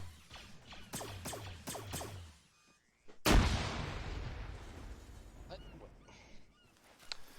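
A single loud gunshot-like blast rings out during a close-quarters military training drill, preceded by a run of honking squawks and followed by a long decaying reverberant tail with scattered clatter.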